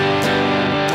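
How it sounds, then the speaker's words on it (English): A sustained, thick distorted electric guitar chord through a Pure Data pedal blending overdrive and fuzz rings out, gritty and saturated, with a brief strum accent partway through. "just a really cool distorted sound."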